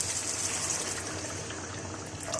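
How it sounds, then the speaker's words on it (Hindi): Water pours steadily into a mutton karahi pot of browned meat, a continuous rushing splash held at an even level throughout. "अब मैं इसके अंदर पानी ऐड करूंगी"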